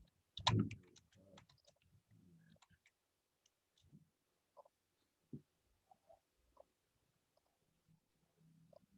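Scattered light clicks of typing on a computer keyboard in a quiet room, coming in short bursts with pauses between them, faint and close.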